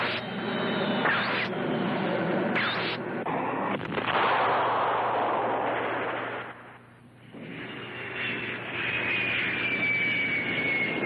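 Jet aircraft engines roaring during an attack in a Gamera film, a loud sustained whooshing roar punctuated by sharp blasts, dipping briefly before the engine noise swells again with a rising whine.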